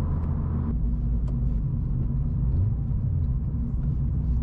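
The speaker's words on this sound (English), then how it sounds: "I'm trying to get better at rev matching" A Vauxhall Corsa E with a loud exhaust drives along, its engine giving a steady low droning rumble from inside the car with a brief rise in pitch partway through, and no talking.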